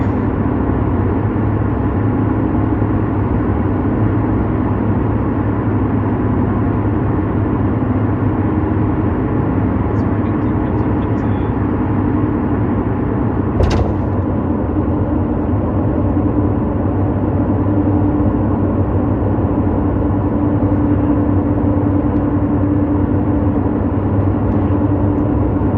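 A car drives the road from Girdwood toward Seward along Turnagain Arm in Alaska, with a steady low road and engine rumble inside the cabin, constant and moderately loud, broken by one brief click.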